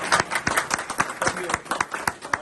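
Scattered hand claps from a small group at a political gathering of a Christian community delegation visiting PTI leader Sher Afzal Marwat's office, sharp and close, uneven in rhythm, with voices mixed in.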